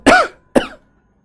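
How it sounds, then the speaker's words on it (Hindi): Two sharp, loud coughs from a man close by, the first stronger and longer, the second following about half a second later, then silence. "खांसी करवा दिया तुम लोगों ने।"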